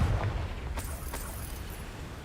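The Confringo fire-blast spell in Hogwarts Legacy goes off as a muffled explosive boom at the start and then trails into rumbling noise, followed by a couple of fainter crackling bursts.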